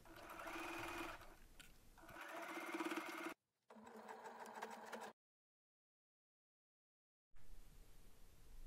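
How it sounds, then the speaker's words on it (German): A sewing machine stitches a seam with a 1 cm allowance while making a bag from pillows, running in close, loud bursts that stop twice: a short gap, then a longer silence before it starts again. "Dann wird von Nadel zu Nadel genäht."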